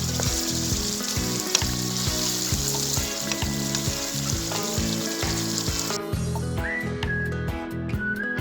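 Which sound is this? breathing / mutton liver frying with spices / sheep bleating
mutton liver frying with spices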